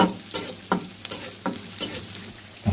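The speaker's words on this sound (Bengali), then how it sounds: "যে পোলাও রান্না করার জন্য তেল দিলাম, ও রান্নার জন্য তেলটা ভেজে নিচ্ছি হালকা করে" Oil heating lightly in a pan for pulao, with soft steady sizzling and several short stirring scrapes spaced roughly half a second apart, close and fairly quiet.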